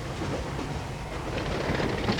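Railway carriages rolling along the line after Francistown on the Zambezi Express route toward the Rhodesian border, a steady broadband rumble of wheels on track with light rhythmic clatter throughout, continuous and close.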